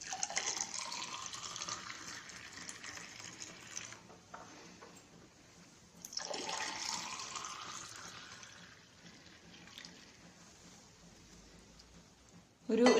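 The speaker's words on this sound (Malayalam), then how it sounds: "ഇത് നമുക്ക് ഗ്ലാസ്സിലേക്ക് പകർത്താം." Cucumber lime lemonade is poured into two glasses in two separate pours, each a bright splashing trickle that gradually fades, with a brief pause between them and a sharp knock at the end.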